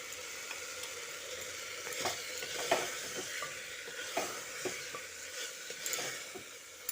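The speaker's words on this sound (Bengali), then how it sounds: "টমেটোটা দিয়ে আরও খানিক্ষণ কষিয়ে নেব" Tomatoes cooking down with spices in a hot pan for a cabbage dish, a steady sizzle broken by repeated scraping stirs, close and alone.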